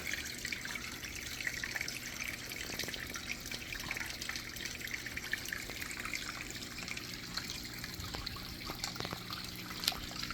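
Creek water trickles and burbles continuously at low volume, a gentle steady flow heard from a short distance.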